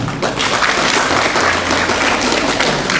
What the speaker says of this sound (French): Applaudissez pour cette équipe.